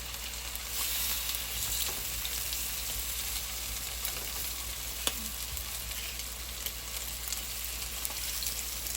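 Chicken pieces stir-fry in a pan, added a little at a time, giving a steady, even sizzle with faint crackles throughout and no talking.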